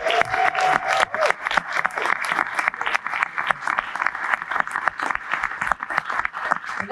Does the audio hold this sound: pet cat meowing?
no